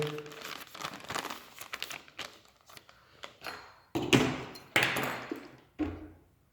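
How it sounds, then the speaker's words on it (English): Plastic pouch of a Daff Blackline 12-hour civilian ration, salmon paella menu, folded over by hand: close, crinkly crumpling bursts with soft taps and thuds, louder near the end, no talking. "We're gonna just fold it over."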